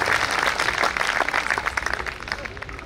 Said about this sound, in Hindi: जोरदार तालियों के साथ आमंत्रित करें डॉक्टर ध्रुवेंद्र।